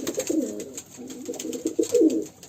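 Pigeons cooing in a loft where birds nest with eggs and young, a soft low repeated warble close by in several bursts with no talk.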